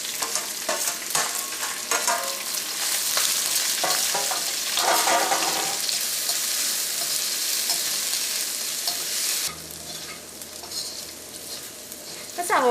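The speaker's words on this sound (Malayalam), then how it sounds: "അപ്പോൾ സവോള ഇഞ്ചിയും വെളുത്തുള്ളിയൊക്കെ മുരിഞ്ഞിട്ട് നല്ലൊരു ഗോൾഡൻ ബ്രൗൺ ആയിട്ടുണ്ട്" Onion, ginger and garlic sizzle and crackle steadily in a hot pan, with a spoon stirring through them; the frying quiets near the end as a low hum and a louder clatter come in.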